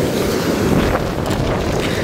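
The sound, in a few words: water rushing forcefully from an opened sluice at a tank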